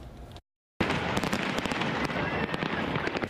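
Dense crackling bursts of Fourth of July fireworks, loud and continuous after a brief silent gap, sounding like a busy display nearby.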